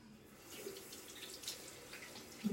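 Tap water runs softly into a bathroom sink during rinsing after a nasal wash, a faint, steady splashing flow with a slightly louder gush near the end and no voices.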